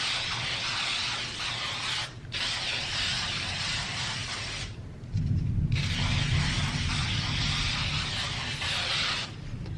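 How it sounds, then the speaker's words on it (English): Steady broadband hissing of aerosol spray adhesive on a giant paper flower runs almost continuously, with a couple of brief pauses and a louder low rumble partway through. "you're actually going to take spray adhesive and spray the entire thing"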